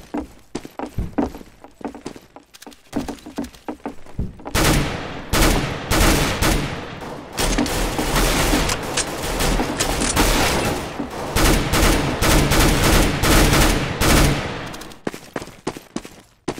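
Loud, rapid gunfire from Counter-Strike: Global Offensive on a custom dollhouse map, with sparse shots at first, then dense sustained bursts that run on and off through most of the stretch, ending in a few scattered pops.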